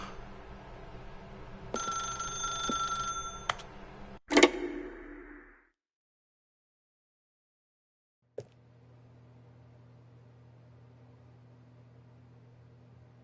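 A telephone rings in The Stanley Parable with a bright electronic bell tone from about 1.8 to 3.5 seconds, followed by a clack like the receiver being picked up. Silence comes next, then a low steady room hum.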